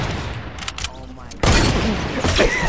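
Gunfire in the video game Fortnite: quieter, spaced shots early on give way to a sudden loud, dense burst of shooting that carries on to the end, with a voice talking over it.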